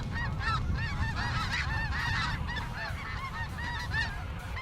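Snow geese and gray geese honking on a foggy Saskatchewan hunt, a dense overlapping flock chorus of repeated nasal honks, steady and continuous, fairly close with no voices over it.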